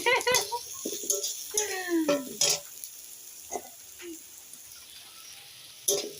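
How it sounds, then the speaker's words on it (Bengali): Garlic and onion frying in a pan give a faint, steady sizzle beneath intermittent nearby talk, with a few louder clatters early on. "রসুন পেঁয়াজটাকে একটু ভালো করে ভেজে নিচ্ছি।"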